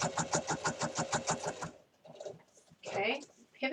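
A sewing machine stitches a microwavable bowl cozy in a fast, steady run of evenly pulsing motor beats for under two seconds, then stops as a voice talks over faint handling sounds.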